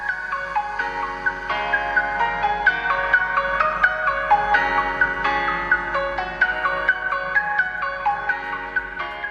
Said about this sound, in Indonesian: Untuk keluaran suaranya sendiri bisa kalian dengar lumayan keras dan cukup oke.